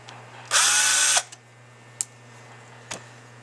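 A power drill whirs in one loud burst of about two-thirds of a second while driving screws into an AC part, followed by a few sharp clicks and taps over a low steady hum.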